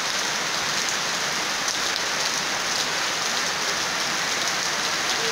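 Heavy rainstorm during a fishing trip, a dense, loud, continuous hiss of rain pounding surfaces, steady and unbroken throughout with no voices.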